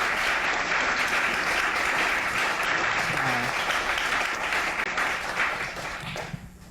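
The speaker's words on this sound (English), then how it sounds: "Can we give our panelists a round of applause?" An audience at a community panel on school closures gives the panelists a round of applause, a steady wash of clapping from a moderate distance that fades out at the end.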